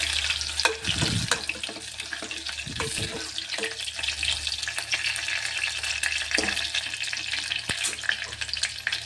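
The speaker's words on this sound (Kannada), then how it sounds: "ಬೆಳ್ಳುಳ್ಳಿ ಒಂದು ಸ್ವಲ್ಪ ಎಣ್ಣೆಗೆ ಚೆಂದಾಗಿ ಫ್ರೈ ಆಗ್ಬೇಕ್ರಿ, ಗೋಲ್ಡನ್ ಬ್ರೌನ್ ಕಲರ್ ಆಗ್ಬೇಕ್ರಿ" Garlic frying in oil in a pan for a tomato sambar, a steady close sizzle with a few louder bursts of stirring and spatter and no talking.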